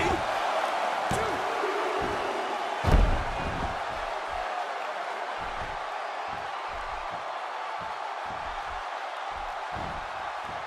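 A wrestling arena crowd in the WWE 2K16 video game murmurs and roars steadily in the background, with a heavy slam thudding once early on and a voice commentating over it.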